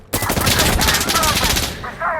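Rapid automatic gunfire in Insurgency Sandstorm rattles out in a dense, loud burst of evenly spaced shots for about a second and a half, then stops abruptly.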